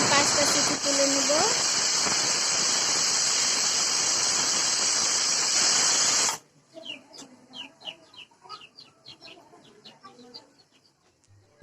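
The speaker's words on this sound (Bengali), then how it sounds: "এইবারেও আমি 5টা সিটি তুলে নেব।" Pressure cooker with beef curry inside, letting off a loud, continuous hissing steam whistle for about six seconds that cuts off abruptly, leaving quieter, scattered kitchen sounds.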